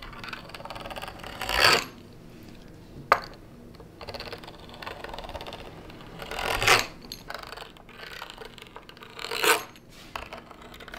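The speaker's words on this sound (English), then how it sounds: "I use this little wheel over here, make a nice design" A small tracing wheel rolls over material to mark a design for Christmas angel wings, giving three scraping, rasping passes spaced several seconds apart plus one sharp click, close and fairly quiet, with no talking.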